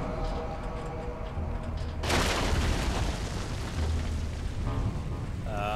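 A tank fires or explodes in the first-person shooter Fear 2: a loud broadband blast hits at about two seconds and rolls into sustained rumble and debris noise over low engine drone, with brief higher tonal sounds near the end.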